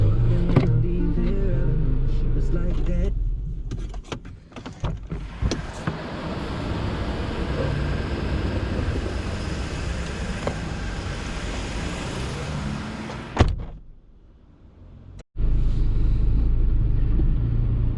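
A 2016 Honda Civic Type R FK2 drives along with a steady low engine and road rumble, a few thumps and clicks, then a brief dip before the drone resumes loudly.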